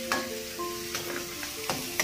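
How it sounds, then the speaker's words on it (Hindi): Tomatoes go into golden-brown onions in a pan and are stirred while frying, giving a steady close sizzle broken by several scraping stir strokes of the spoon. "टमाटर डालेंगे, डाल दो, चलाएंगे 2 से 3 मिनट"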